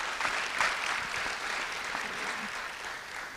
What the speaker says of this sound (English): How about a round of applause for Dr.